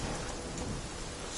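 A thunderstorm in the video game Witcher 3: dense, continuous heavy rainfall with a deep rumble of thunder filling the background, loud and unbroken throughout.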